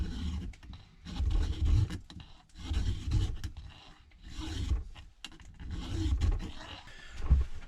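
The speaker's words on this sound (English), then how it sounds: "Gonna grab a file to flatten this out." A metal file scrapes an ATV engine part, a Yamaha Blaster's, in repeated rough rasping strokes of about a second each, close and moderately loud.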